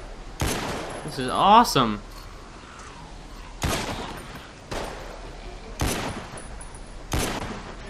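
Single M1 Garand-like rifle shots in The Walking Dead: Survival Instinct, five or six sharp loud cracks spaced about a second apart, with a person speaking excitedly between early shots.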